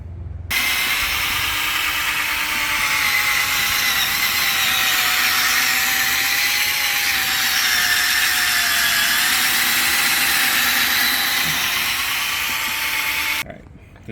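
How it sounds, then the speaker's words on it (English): A power tool drones continuously while polishing the headlights of a Nissan Maxima with a VQ35 engine, loud and close, with a steady whine that wavers slightly in pitch before stopping abruptly. "then I'm going to move to power tool from there."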